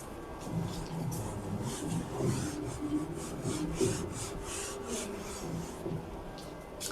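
Rough working is wiped off a board with a series of soft, rhythmic rubbing strokes, faint and close, with no voice over them.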